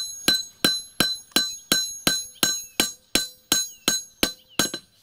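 A priest peens a scythe blade with a hammer, about thirteen evenly spaced, sharp metallic strikes, each ringing briefly before the next, close and clear with no speech.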